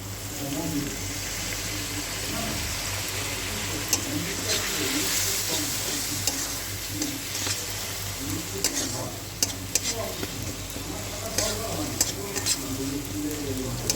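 Spice paste with a little water being sautéed in a pan for a pointed gourd and prawn dish, a steady sizzle with intermittent spatula scrapes and clicks, and a voice talking faintly at times.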